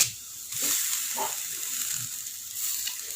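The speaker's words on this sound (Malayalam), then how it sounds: "ഞാൻ ഇതിലേക്ക് കുറച്ച് കറിവേപ്പില ചേർക്കുകയാണ്" Curry leaves frying in a hot pan while cooking Kannur-style chicken thoran, a steady close sizzle with a few soft crackles and pops, no talking.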